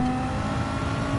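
Audi RS5 engine droning steadily in Gran Turismo at Brands Hatch, a brief loud sustained tone held at constant revs.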